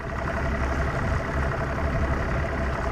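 A boat engine idles steadily over a submerged road bed, a constant low rumble with a faint hum that holds evenly and fairly close throughout, with no voices.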